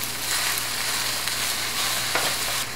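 A pan sizzles steadily up close while mac and cheese cooks, a dense continuous hiss with faint crackles and no voices.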